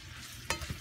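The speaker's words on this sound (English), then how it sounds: "I'm melting down the shortening" Shortening melting in a hot pan for a New Mexico style red chili con carne gives a faint, low sizzle, with one sharper scrape-like burst midway and a soft bump just after.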